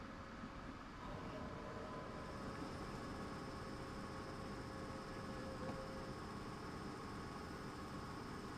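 A train in Train Sim World 5 rolls along the tracks as a continuous, steady rumble and wash of broadband noise with a faint high whine, sustained and unchanging throughout.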